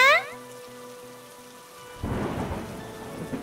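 Cartoon rain and thunder: after a brief tonal musical passage, a loud rumble of thunder breaks in along with steady rainfall.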